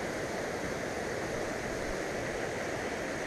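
A mountain waterfall fed by constantly melting snow gives a steady, dense rushing roar that fills the whole stretch at an even level, with no voices over it.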